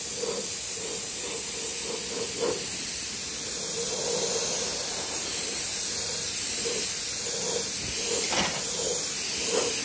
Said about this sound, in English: Let me put some sealer in this airbrush, and we're gonna seal this.